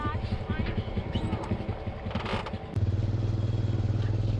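A runaway diesel engine idles with a steady rough rumble and clatter, then settles into a louder, even throbbing chug partway through, with voices talking over it.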